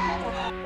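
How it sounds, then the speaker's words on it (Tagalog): Fighting roosters kept at a house property in Tagaytay City give a short, close, harmonic clucking call lasting under a second, with no talk over it. "Ang daming manok na panabong ni sir."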